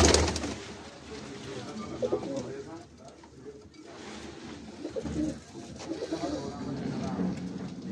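Domestic pigeons of the Shaqa breed cooing nearby in soft, low repeated phrases, with someone speaking over them and some handling noise in the loft.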